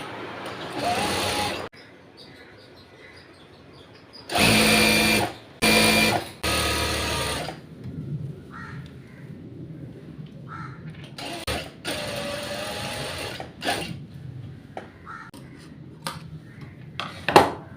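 A sewing machine stitches cigarette pants in bursts, several loud short runs of the motor separated by pauses, with faint handling noises and crow caws in the background.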